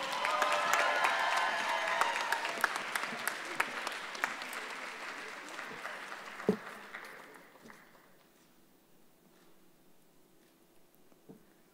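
Audience applause for state winners at a Poetry Out Loud regional semifinal, a dense crowd clapping loudly at first, then thinning and fading to scattered claps by the end.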